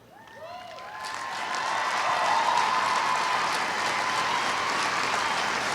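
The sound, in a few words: audience applause for Chief Frank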